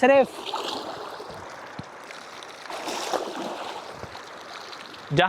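Water flows quietly through a desolate valley near Taif in Saudi Arabia, a soft, steady rushing wash with brief voice-like sounds at the start and end.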